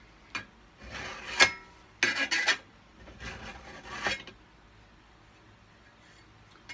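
A file dresses the edge of a cabinet scraper used for scraping finish off a guitar: several close, gritty rasping strokes come in short bursts separated by pauses.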